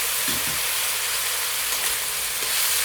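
Chopped tomatoes fry with ginger, garlic and chilies in a pan for baingan bharta, making a loud, steady, close sizzle that hisses without a break throughout.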